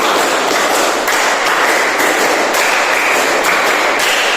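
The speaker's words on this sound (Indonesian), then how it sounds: "Tepuk 5 3 kali." A classroom clapping together in a steady rhythmic pattern of five claps repeated three times, loud and close, with sharp regular hand strikes filling the clip.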